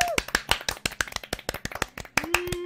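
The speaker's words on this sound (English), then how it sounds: "Oh, clap for yourself." Several people clap in an uneven patter of sharp, close hand claps, with a brief tonal voice sound at the start and a sustained vocal note near the end.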